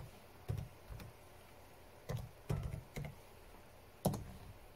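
A command typed on a computer keyboard: scattered, quiet key clicks in small uneven clusters with gaps between, close up in a hushed room.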